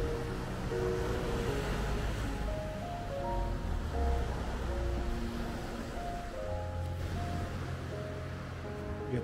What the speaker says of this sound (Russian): Послушаем шум моря.